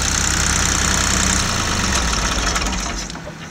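A Ford 1710 tractor engine runs close by with a steady, loud, knocking diesel idle that eases slightly toward the end.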